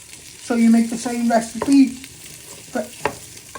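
Sausages fry in a pan with a soft, steady sizzle running beneath a voice as he talks.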